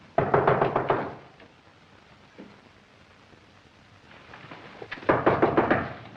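Knuckles rap on a room door in a 1940 film scene, two quick bursts of several sharp knocks separated by a few quiet seconds.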